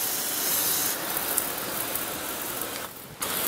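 A sprayer wets a pool's walls to barely dampen the surfaces before a waterproof coating goes on. A steady, close hiss runs without a break, drops out briefly near the end, then comes back.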